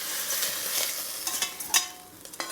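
Prawns half-cooking in a frying pan, a bright steady sizzle with scattered spits and crackles and a few louder scraping stirs, close and continuous with no talk.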